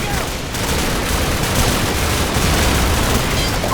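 Dense, continuous gunfire from the Call of Duty 4: Modern Warfare battle in the Bog, loud and sustained with overlapping bursts and booms throughout.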